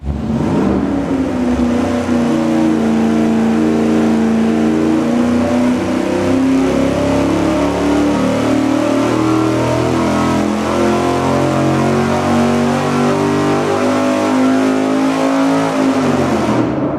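A V8 engine pulls hard on a dynamometer for a baseline run without a carburetor spacer, a loud, sustained roar climbing steadily in pitch for about sixteen seconds before cutting off abruptly.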